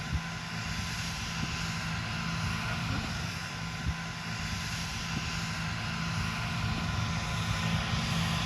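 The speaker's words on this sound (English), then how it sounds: "It's a beautiful aircraft." A steady aircraft engine drone holds throughout as the plane flies its landing approach, loud and continuous with a constant hum and faint wind noise, no talking.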